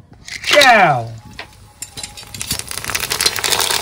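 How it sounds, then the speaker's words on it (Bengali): Pipe papad frying in hot white oil at an outdoor picnic: after a voice briefly speaks, a rising crackling sizzle builds and grows louder toward the end, with light clinks of utensils. "তো বন্ধুরা, এখন কিন্তু পাইপ পাপড় ভেজে নেবো।"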